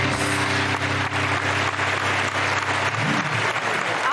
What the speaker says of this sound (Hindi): बैंड के लिए तालियां